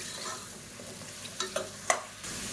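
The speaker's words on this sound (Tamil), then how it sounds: "இப்போ இந்த மஷ்ரூம் நல்லா வதக்கி விட்டுக்கலாம்" Sliced mushrooms are sautéed in a pan, with a faint sizzle and quiet stirring and a few sharp utensil clicks toward the end. No one speaks.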